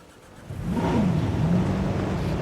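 A car driven in the dinosaur park game Jurassic World Evolution revs up from quiet, its mid-pitched engine whirring steadily with a rising and falling tone, with no talking.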